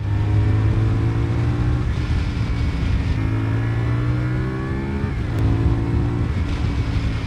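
A CFMOTO 450SR motorcycle engine accelerating, its loud steady drone rising in pitch through the gears with brief dips at the shifts, close and alone with no talk.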